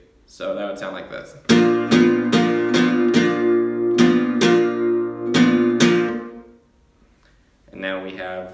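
A flamenco guitar plays a siguiriya phrase of bright, ringing strummed chords in a steady pulse, then stops sharply as a palm mute cuts the strings. A short, quieter strum follows after a pause.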